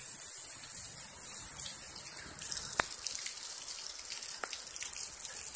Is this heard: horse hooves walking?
no